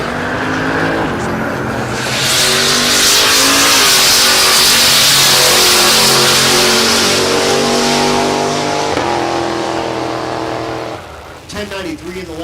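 Drag racing cars, including a naturally aspirated big-block 1955 Chevy, launch down the strip at Texas Motorplex in Ennis, Texas, their engines roaring loud and sustained before fading, with a commentator talking throughout.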